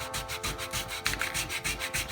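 Sandpaper of 220 grit wrapped around a spray adhesive can rubs back and forth over an engraved engine piston, a steady rhythmic scraping of even strokes, close and alone.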